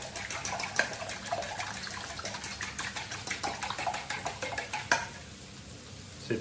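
A fork or whisk beats the Maroilles flamiche filling in a bowl, making fast, steady, rhythmic clicking that stops abruptly near the end.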